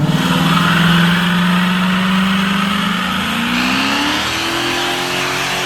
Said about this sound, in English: This is a pretty epic burnout.